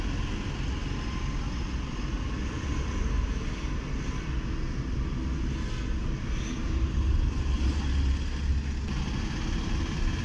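Car cruising steadily along a newly built highway bypass near Balachaur in Punjab, a continuous low road rumble and engine drone filling the cabin with no talking.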